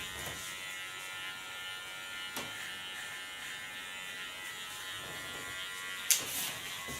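Electric hair clippers with the comb removed buzz steadily and quietly at the nape during a bob haircut, a thin continuous hum broken by a couple of brief clicks and a sharp tap near the end.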